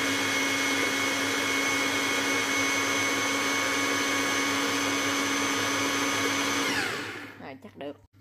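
A kitchen blender grinds freshly washed, cut strawberries for a strawberry mousse, a loud steady motor whine with sustained tonal hum that runs for several seconds, then winds down abruptly, followed by a few brief voices.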